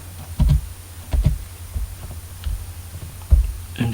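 Keys are tapped on a computer keyboard in a few sparse, soft bursts with short gaps between them. A low hum sits underneath and no one speaks.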